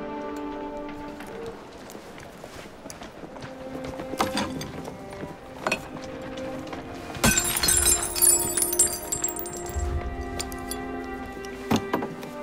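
Glass shatters sharply in the middle of a scene from Assassin's Creed Syndicate, a fake Koh-i-Noor diamond breaking amid footsteps, clattering and soft background music, with a second smaller crash near the end.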